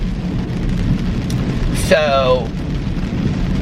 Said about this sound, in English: Do you hear all this rain that we have?